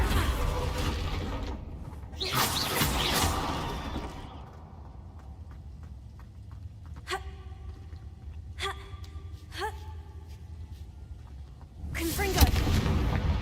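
Confringo blasting spell explosions in Hogwarts Legacy, broadband blasts with rumbling low-end tails and sharp spell cracks in between, loud and close over a continuous game background.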